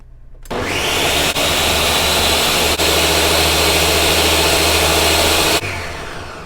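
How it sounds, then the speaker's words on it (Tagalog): A loud, steady motorized whir runs continuously for about five seconds with a couple of brief dips, then cuts off abruptly, as a blender chops garlic and onion. "I-process po natin sa blender at nang maging pinong-pinot magkasama-sama sila lahat."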